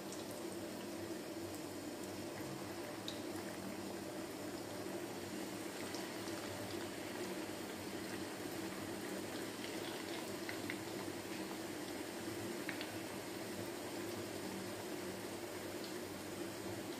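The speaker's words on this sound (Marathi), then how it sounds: "आता आपण तळून घेऊ बारीक गॅसवरती" Gulab jamun fry in hot oil on a low flame, giving a steady, faint, even bubbling sizzle that continues without pause.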